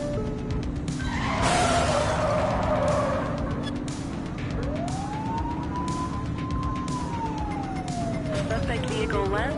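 A police siren wails and sweeps in a pursuit in the game The Precinct, rising and falling over engine rumble and street noise, while a voice talks over it.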